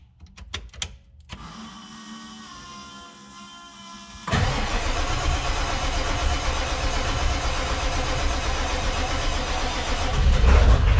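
A truck on a stage 1 build is cranked after leak repairs: a few clicks and a whirring starter, then the engine catches and settles into a loud, steady running rumble that grows slightly louder near the end.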